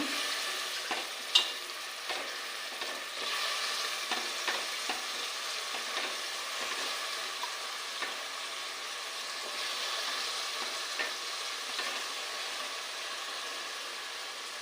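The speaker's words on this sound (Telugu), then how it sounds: "ఇప్పుడు ఇందులో వంకాయ ముక్కలు వేస్తున్నానండి" Brinjal pieces and onions fry steadily in a pan, giving a soft, continuous sizzle with scattered stirring clicks and light scrapes over roughly fifteen seconds.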